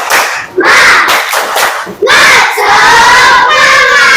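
A school class produces a loud, close rhythmic group chant of shouted syllables with clapped beats, the whole room voicing it together in quick bursts before a sustained final shout.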